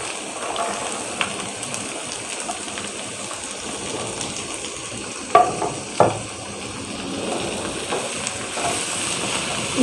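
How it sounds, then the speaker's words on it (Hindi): Potatoes, carrots and peas fry and are stirred in a pan for a mixed vegetable dish, giving a steady soft sizzle with a few scraping clinks of the spoon near the middle. "दो तीन मिनट के लिए अच्छा सा भून लें"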